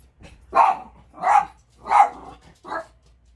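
Puppies bark four times in sharp, evenly spaced yaps, close by and fairly loud, the last bark a little softer, with quiet gaps between them.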